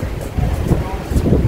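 Cold wind gusts buffet an outdoor microphone in a loud, rumbling roar that rises and falls over a second and a half, with no clear voices.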